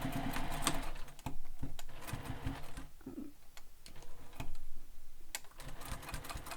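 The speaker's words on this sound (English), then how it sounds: "So now I'm going to top stitch the strap sling" A sewing machine top stitches a strap sling in quick bursts of rapid mechanical stitching, stopping and restarting several times, close and clear with no talk.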